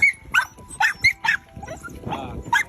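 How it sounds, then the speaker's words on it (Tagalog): Three stray dogs on an island bark and yelp in short, sharp bursts while fighting over food, with snarling scuffle noises between them, fairly close. "Yun ang kanilang pinag-aagawan, nag-aaway-away pa yung tatlong aso."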